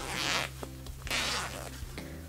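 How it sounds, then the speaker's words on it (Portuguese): Zipper pulled open on a handmade triple box pencil case with an orange fabric lining, two quick raspy zips close up, each about half a second, separated by a brief pause, with no talking. "Então, eu vou abrir aqui esse zíper do meio."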